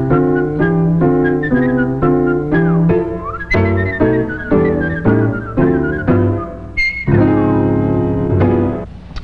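A musician whistles a tune, a clear, bright melody in short phrased notes, close and solo with no accompaniment.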